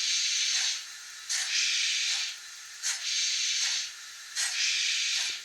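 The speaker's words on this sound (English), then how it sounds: "I do like the sound of the drain cocks too." Hissing from the drain cocks of a model steam locomotive's sound decoder: four or five loud bursts of steam hiss come in a regular rhythm, separated by short, quieter gaps, with no talk.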